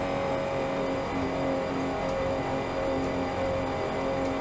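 A Porsche rally car engine labors on a desert incline in the Dakar Desert Rally video game, a steady strained drone with a constant tonal hum and no speech.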